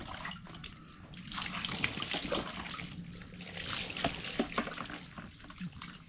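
Pumped water gushes steadily from a tap, a continuous splashing rush, close and fairly loud, with no talk over it.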